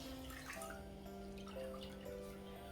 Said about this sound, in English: we're going to hand wring them a little bit, because otherwise they'll be completely saturated and dripping